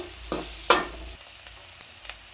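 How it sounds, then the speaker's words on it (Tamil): Onions with green chillies sautéing in a pan for tomato thokku, a soft sizzle with two sharper scraping stirs early on, then quieter bubbling and faint taps. "இந்த மாதிரி நல்லா கொஞ்சம் வதக்கிட்டே இருங்க. கொஞ்சம் வெங்காயம் வந்து நல்லா வதங்குற வரைக்கும்."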